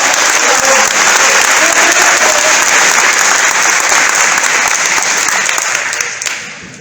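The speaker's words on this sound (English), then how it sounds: "All right, a round of applause." Loud, sustained crowd applause fills a hall at a Minnesota Republican gubernatorial debate, a dense wash of many hands that holds strong before tapering off in the final second.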